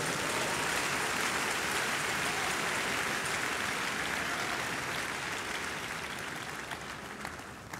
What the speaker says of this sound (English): Give the Lord a big hand of praise, everyone.